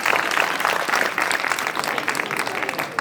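A school audience at an awareness program on girls' education breaks into loud, sustained clapping that fills the whole three seconds without pause.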